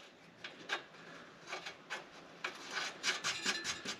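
Short rhythmic rasping and ratcheting strokes, close and fairly quiet, as a tie rod end on car suspension is tightened up with a wrench.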